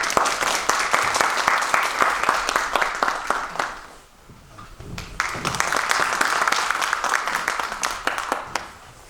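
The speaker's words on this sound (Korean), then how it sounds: "감사의 박수 부탁드립니다" An audience at a lecture on history and religion in Jeongeup, Korea, claps warmly, a dense round of applause that dips briefly midway and then swells again before carrying on.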